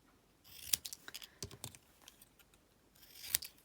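Scissors snip small paper sentiment strips being trimmed by hand for card making, giving a few crisp cuts with quiet rustling between them, close and alone.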